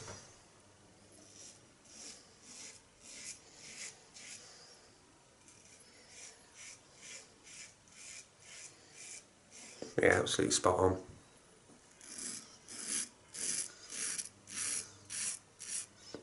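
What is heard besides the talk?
R41 safety razor with Astra Superior blade shaving through lather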